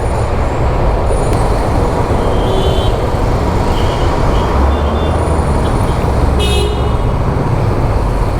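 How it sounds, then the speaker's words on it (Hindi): Heavy mountain road traffic backed up near a small tunnel on the way to Narkanda and Spiti Valley, with a loud, continuous rumble of engines close by and a few short horn toots cutting through. "फिर लग गया ट्रैफिक।"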